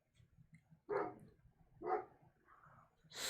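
A dog barks three times in quick succession, fairly close and loud, with a short yip-like sound at the end and quiet room noise in between.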